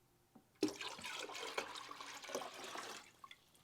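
Clean water pours into a hydroponic bucket in a sudden gush, a close, sloshing and gurgling stream lasting a few seconds before tapering off, with a few small knocks before it starts.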